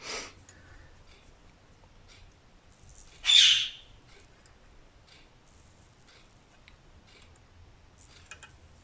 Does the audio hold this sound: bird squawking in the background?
yes